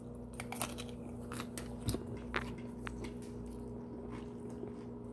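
During a mukbang, someone chews food close to the mic. Soft, irregular crunchy bites and squishy mastication sounds repeat over a steady low hum, with no talk.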